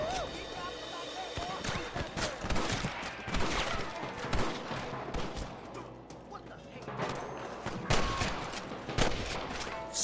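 Gunfire from a Western shootout in Red Dead Redemption, with repeated sharp shots and bursts firing steadily over a busy battle soundscape while voices talk throughout.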